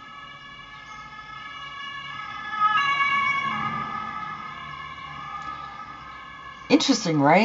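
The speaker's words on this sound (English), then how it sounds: "So now there's a police car." A police car siren passes, its steady wailing tones rising and sweeping through the scene, with a sharper yelping burst near the end, while a person talks over it.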